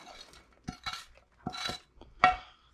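A spoon stirring chili with bacon in a large stock pot: several separate scraping, clinking strokes against the metal, close and clear, ending on one sharp ringing clink.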